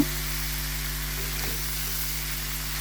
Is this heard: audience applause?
no